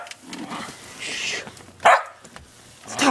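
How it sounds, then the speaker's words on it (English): A dog barks a few short sharp times at close range, one bark standing out loudly, with faint yips and whimpers between in an otherwise quiet indoor setting. "Stop barking at me."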